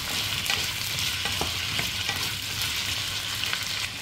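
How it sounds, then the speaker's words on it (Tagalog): Garlic, onion and ginger sauté in a hot pan with oil, giving a steady, close sizzle and frying hiss throughout with occasional stirring scrapes, no voices over it. "Tapos igisa na yung bawang, sibuyas,"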